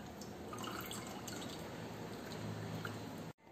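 Homemade pomegranate wine, pressed through a strainer and poured into a vessel: a faint, steady trickle and dripping of liquid that stops suddenly at the end.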